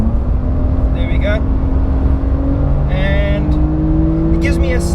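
A new Porsche 911 sports car accelerates with its push-to-pass boost engaged, the engine note rising steadily as a continuous drone under loud road and cabin noise, heard from inside the car.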